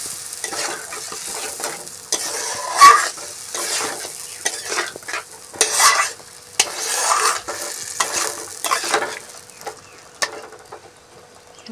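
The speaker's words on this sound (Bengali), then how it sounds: "আলু ফ্রাই হয়ে গেছে, এখন মশলাগুলো দিয়ে দেব। ভালো করে এখন কষিয়ে নেব" Dry cauliflower-and-potato kosha being stir-fried with spices, a spatula scraping and stirring in irregular bursts over a steady close sizzle, with no voices.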